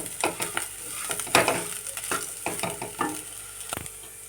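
Bitter gourd curry is stirred and fried with chili powder in a pan, a steady sizzle broken by repeated scraping strokes and clinks of the spoon, close and moderately loud, without speech.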